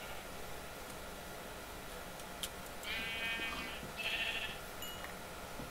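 Two short sheep bleats in modded Minecraft sound over a steady hiss of background noise, the second slightly louder than the first.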